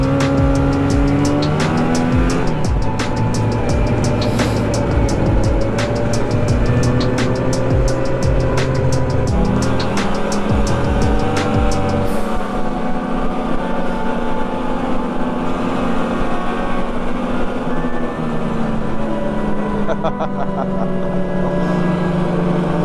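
Snowmobile engine on a ride through deep snow in Norway, a loud continuous motor drone with shifting pitch that swells and eases as the machine moves, close by with no talk over it.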